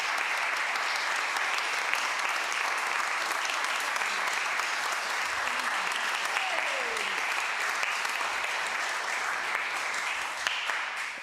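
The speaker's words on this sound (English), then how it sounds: "We should give Martin a round of applause for his wonderful" An audience at a festival concert gives steady, dense applause for accompanist Martin, a continuous crackle of many hands that carries on for around eleven seconds and trails off slightly at the end.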